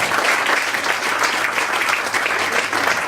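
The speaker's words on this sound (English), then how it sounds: "Would you please give a round of applause to welcome him?" A large audience gives sustained, even applause to welcome a guest of honour at a formal event, a dense steady wash of clapping with no voices.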